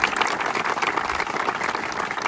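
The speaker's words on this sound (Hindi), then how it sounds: "एक बार जोरदार तालियां पहले तो इनके लिए।" Audience applause at a beginner running-technique training session, a dense steady wash of many hands clapping at close range for the whole stretch, with no voices over it.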